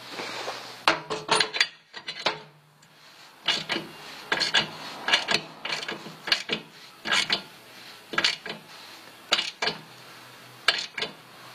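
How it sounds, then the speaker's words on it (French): Spark plug being screwed in and tightened on a Terrot VMS2 scooter engine: a series of short metallic ratcheting rasps and clicks in uneven bursts, close and moderately loud with no talking. "On visse la bougie. Et on la serre."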